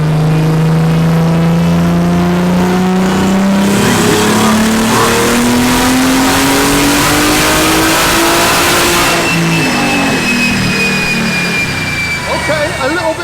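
A BMW M240i engine revving on a dyno run, a loud, sustained rising drone climbing steadily in pitch for about nine seconds before easing off, close and dominant.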